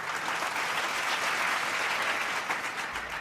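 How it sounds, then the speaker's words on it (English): Audience applause at a college years-of-service celebration honouring a staff member: a dense, even roar of many people clapping, steady and moderately loud from start to finish. "Let's give Kim a round of applause"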